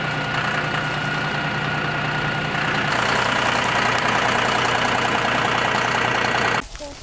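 Steady tractor engine idling on a bison ranch, with a constant mechanical drone and rattling hum, loud and close throughout, cutting off abruptly near the end.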